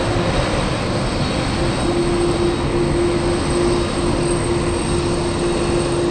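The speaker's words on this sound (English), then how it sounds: "Singapore Airlines cargo 7952 to DFW." A Singapore Airlines cargo plane at Anchorage airport runs with a steady, loud engine roar and a constant tonal hum, sustained evenly throughout with no voices.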